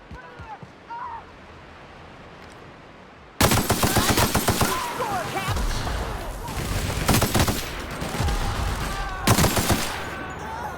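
Rapid bursts of automatic gunfire from The Outer Worlds shooter, loud and dense, starting abruptly after a quiet stretch and continuing in repeated volleys with brief pauses.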